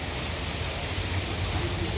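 An artificial waterfall in a park gives off a steady, even rush of falling water. The broadband hiss stays loud and unbroken throughout, with no voices over it.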